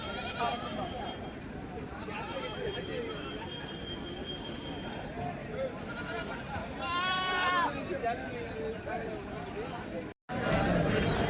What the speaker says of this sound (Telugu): పెద్ద సైజు గట్టి మేకలు